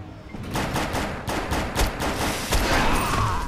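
Continuous rapid gunfire in the shooter Defiance, a steady stream of close, sharp shots with thuds mixed in, loud and unbroken throughout.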